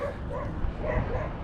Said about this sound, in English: Dogs, dogs, dogs.